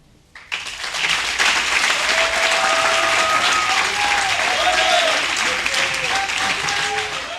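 A university debate final's audience bursts into loud applause for a young student team, a sudden onset followed by sustained, dense clapping and some voices calling out beneath it.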